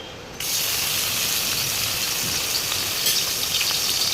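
Oil heats in a pan over a low gas flame, with a steady loud hiss and sizzle that starts abruptly and continues without pause.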